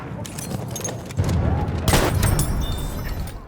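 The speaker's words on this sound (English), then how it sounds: "It's just a shotgun. You have 5 rounds, fast rate of fire, surprisingly long range, longer than expected." A shotgun fires in the Battlefield 1 video game: two heavy booming blasts ring out in the middle, set against continuous rumbling battle noise.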